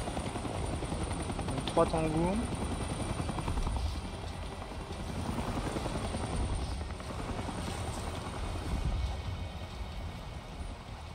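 Helicopter rotor and engine drone from the video game Avatar: Frontiers of Pandora, a steady broadband whir running throughout under intermittent speech.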